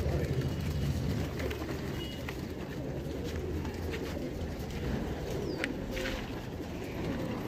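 Pigeons in a loft at evening coo softly and steadily beneath a constant low rumble of ambient noise, with faint traffic in the distance.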